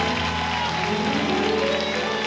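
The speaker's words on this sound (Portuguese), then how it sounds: "aplauda ao Rei Jesus, porque Ele é." Church congregation applauding for Jesus during a Portuguese-language service led by a pastor, a steady dense wash of clapping that fills the room throughout with organ or keyboard chords sustained underneath.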